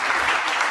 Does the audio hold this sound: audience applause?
yes